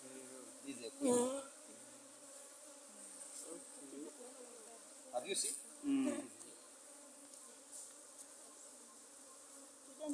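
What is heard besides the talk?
honeybees buzzing at a hive in Uganda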